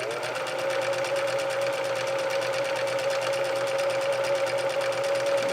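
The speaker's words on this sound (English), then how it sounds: "That's as fast as this machine will go." An old home sewing machine, about thirty years old, running flat out in one continuous fast whirring drone with a rapid even needle rattle, close and steady, with no talk.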